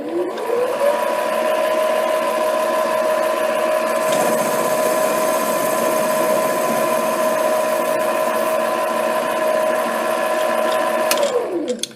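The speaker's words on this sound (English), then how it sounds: "now I'll take a test cut to determine whether the tool is too high or too low" A mini lathe spins up with a steady motor whine and hum while making a facing test cut, holding at constant pitch for about ten seconds before winding down.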